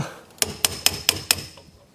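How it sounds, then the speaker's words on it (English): Five sharp metallic hammer blows in quick, even succession strike long extensions on a Phillips screwdriver to knock a part out of a car, close and loud, then quiet with no talking. "knock it out with a hammer and some long extensions that were attached to a Phillips screwdriver"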